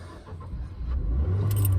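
A car leaving a hospital gives an unhappy engine noise. It is a low rumble that swells into a steady, strained drone, with no talking over it.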